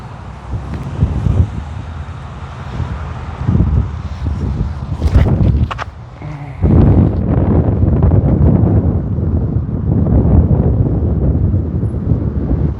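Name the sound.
wind blowing on a disc golf course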